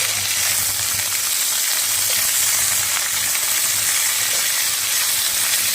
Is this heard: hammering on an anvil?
no